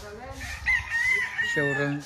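A rooster crows close by at a gamefowl farm showroom on Mount Banahaw, one long drawn-out call with a clucking tail, over faint background murmur.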